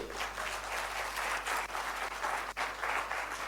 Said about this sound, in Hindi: शानदार ताली होनी चाहिए इनके लिए।